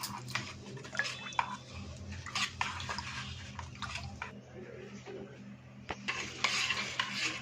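Jaggery is stirred in a pot while it melts, with soft, intermittent scraping and swishing strokes at a quiet level over a low, steady hum.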